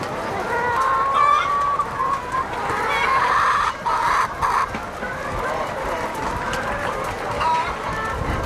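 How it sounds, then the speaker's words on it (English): Chickens cluck and squawk steadily at close range, with a rooster-like call now and then, over a busy farmyard background. "look at those doggone chickens"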